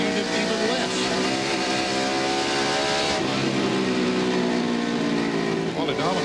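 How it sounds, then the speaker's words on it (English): A NASCAR Winston Cup stock car engine at Bristol Motor Speedway, 1996 Goody's Headache Powder 500, roars loudly and continuously, its pitch climbing and dipping as the throttle is worked, under the steady drone of other cars and a commentator talking. "And we see Mark Martin, we listen to his engine and how he literally is using the accelerator."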